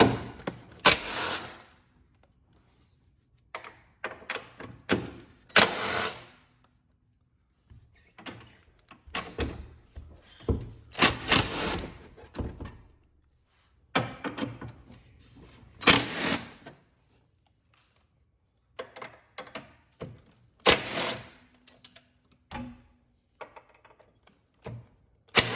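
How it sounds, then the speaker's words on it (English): A 14 mm socket wrench ratchets nuts loose on a Fiat 124 Spider Abarth's suspension during a lowering spring install, giving repeated short bursts of clicking with quiet gaps between, close up. "So I'm gonna take my 14 millimeter socket"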